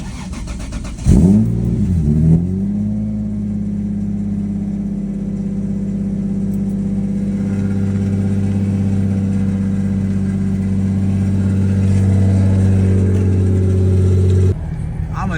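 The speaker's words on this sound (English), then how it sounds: "here's a cold start" A car engine cold starts with a brief crank, then revs up and settles into a strong, steady idle that holds loud and close before cutting off.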